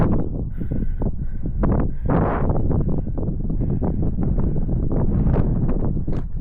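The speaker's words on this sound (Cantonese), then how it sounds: "聽到風聲" Steady, loud wind buffeting the microphone outdoors on an exposed hillside about 180 metres up, with continuous low rumbling gusts and scattered rustling throughout.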